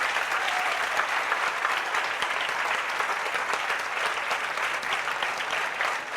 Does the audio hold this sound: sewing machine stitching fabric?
no